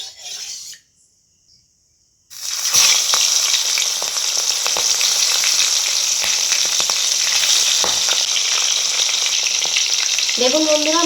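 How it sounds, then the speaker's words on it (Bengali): Prawns fry in hot mustard oil in a kadai, a loud, steady, close crackling sizzle that bursts in after a couple of seconds of near silence and continues unbroken. "এবার আমি কড়াইয়ের মধ্যে সরষের তেল দিয়ে দেবো মাছটা ভেজে নেওয়ার জন্য।"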